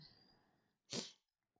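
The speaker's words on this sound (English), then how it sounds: "Sorry, I've been sneezing so much lately." A single sharp sneeze bursts out close and loud after a quiet, breathy lead-in, followed by near silence and a tiny trailing click.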